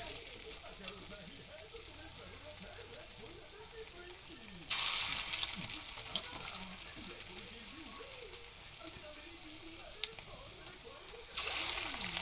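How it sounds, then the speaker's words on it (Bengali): Bottle gourd koftas sizzle and crackle in hot oil, a steady, soft frying hiss that swells louder partway through and again near the end, with light scattered pops throughout. "এখন আমি কোপ্তাগুলো গোল গোল করে ভেজে নেব।"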